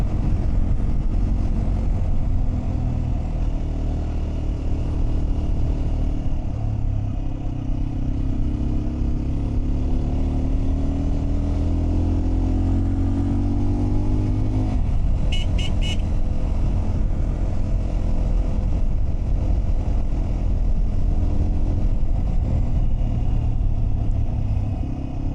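A motorbike rides a narrow mountain road toward Crystal Lake in Pakistan, its engine a loud, steady drone with road rumble throughout and a brief rattle partway through.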